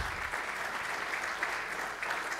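Conference audience clapping steadily at a sports industry convention, a dense, even wash of many hands throughout with no pauses.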